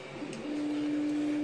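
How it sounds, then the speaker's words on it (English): A 3D printer runs at full speed, giving a close, steady mechanical whine with a sustained motor tone, faint ticking and soft clatter throughout and no one talking. "That is my 3D printer going full blast as it's building my next cosplay."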